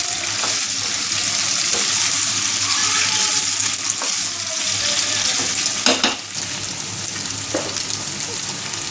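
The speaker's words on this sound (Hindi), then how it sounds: "चिकन हमारा फ्राई होता जा रहा है," Pieces of chicken for Chicken Manchurian deep-frying in hot oil, a steady close sizzle and bubbling that runs unbroken, with occasional spatter pops and a brief clatter partway through.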